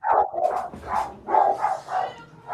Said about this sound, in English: The dogs are going nuts.